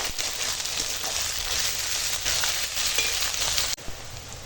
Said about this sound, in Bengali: এখন পেঁয়াজ আর কাঁচা লঙ্কা একসঙ্গে ভালো করে ভেজে নেব